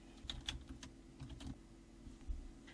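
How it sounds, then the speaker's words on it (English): Soft, quiet keystrokes tap on a computer keyboard in an irregular rhythm while data is entered into a spreadsheet cell, heard alone with no voices. "Start typing in the cell that you would like the data to appear."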